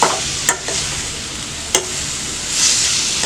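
Tomatoes with salt, turmeric, chilli, coriander powder and garam masala sauté for a squid fry in a constant loud sizzle, broken by two sharp spatula scrapes against the pan.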